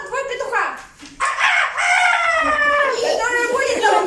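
A person imitates a rooster crowing during a live concert performance of a nursery rhyme, with one long rising and warbling crow filling most of the moment, loud and close.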